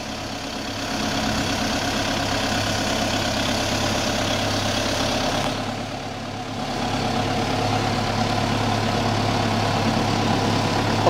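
A Celikel Brassus H8 horizontal TMR feed mixer runs steadily at a carabao farm, a constant heavy engine drone with a brief dip in level midway before resuming at full, loud volume.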